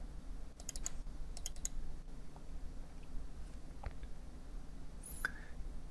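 A computer mouse gives a few quick, light clicks in short bursts near the start, then fainter sporadic taps over a low steady hum at a desk.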